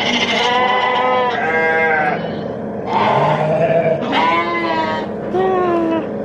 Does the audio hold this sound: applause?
no